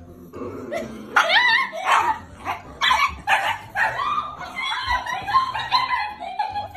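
A small dachshund yips and barks in short excited bursts over her bone, close by, mixed with giggling and laughter from several girls.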